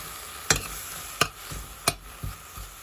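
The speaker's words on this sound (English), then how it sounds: "Give them a stir." Spices fry in a pan over low heat as a spoon stirs them, giving a soft sizzle broken by four or five sharp scraping strokes at an even pace, close and without any voices.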